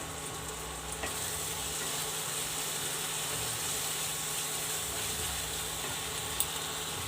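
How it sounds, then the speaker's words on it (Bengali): Ground coriander and cumin masala frying and stirred in a pan for an eggplant and fish curry, a steady close sizzle with scraping spoon strokes and a sharp clink near the end. "ধনের গুঁড়ো, 1 চামচ জিরের গুঁড়ো দিয়ে আমি ভালো করে মশলাটা কষিয়ে নেব"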